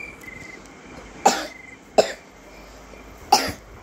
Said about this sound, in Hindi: इतनी खांसी हो रही है मुझे